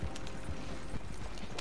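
Hooves of a horse in Red Dead Online clip-clop in a steady, quick rhythm, close and moderately loud, with no voices over them.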